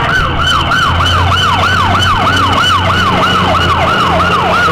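A fire department tanker truck passes with its siren wailing in fast, rhythmic up-and-down sweeps, loud and close, over the low rumble of the heavy engine.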